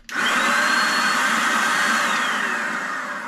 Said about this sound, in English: this is a powerful stream of air